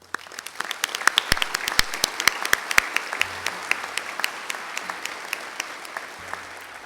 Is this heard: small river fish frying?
no